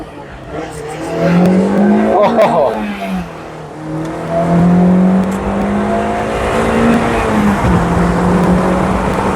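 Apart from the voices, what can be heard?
Mazda Miata accelerating from a red light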